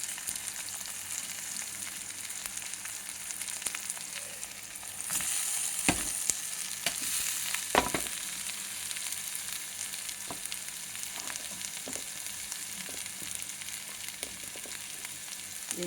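Aloo masala potato curry fries in a pan with a steady, fairly quiet sizzle throughout, with occasional stirring scrapes and no talking.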